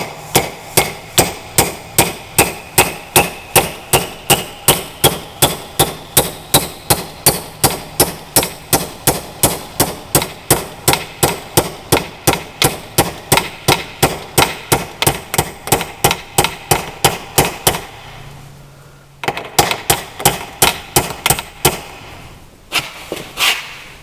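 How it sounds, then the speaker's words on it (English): Rapid, regular hammer blows drive a roll pin into a Troy-Bilt tiller transmission, dozens of sharp metallic strikes in a steady rhythm, with a brief pause near the end and then a few final hits. "And we can drive that roll pin home."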